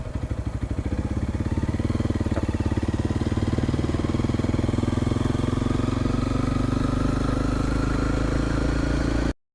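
A motorcycle rides along a road near Tha Song Yang in Tak province, Thailand, its engine running loud and close with a steady throb that rises slightly, then cuts off abruptly at the end.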